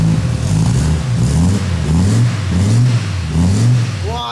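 A cold Audi engine revs repeatedly in rising and falling surges, its exhaust note raspy and loud up close.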